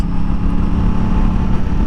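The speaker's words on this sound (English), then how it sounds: "You can already feel the induction and the engine noise it's doing is really nice." A sport motorcycle's engine and intake induction roar loudly and steadily while riding, with a dense low rumble and continuous wind-like noise.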